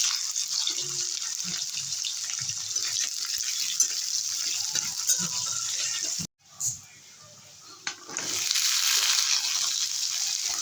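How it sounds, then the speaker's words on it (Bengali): Whole cumin seeds, dried chillies and chopped onion crackle in hot oil in a pan, a steady bright sizzle that cuts out briefly partway through and then returns loud, with faint talk underneath. "দু চামচের মতো তেল দিয়ে দিলাম দেব গোটা জিরে শুকনো লঙ্কা দেব পেঁয়াজ কুচি"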